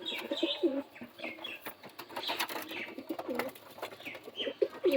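Madras pigeons coo in soft, repeated low throaty calls at close range, with a few faint chirps and light rustling between them and no voices.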